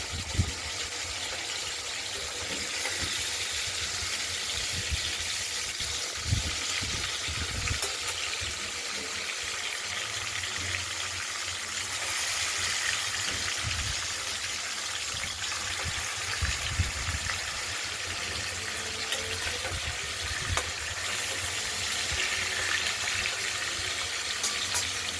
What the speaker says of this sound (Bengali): মাছগুলো প্রথমে ভেজে নেবো, অপেক্ষাতে অল্প করে তেলে নুন দিয়ে দিলাম যাতে না ছিটে আসে।